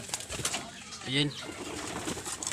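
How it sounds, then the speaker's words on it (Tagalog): A newly arrived racing pigeon gives a brief, soft coo partway through, close by, amid talking and faint background rustle. "Ito yung kalapati natin na bagong dating mga kalapatids."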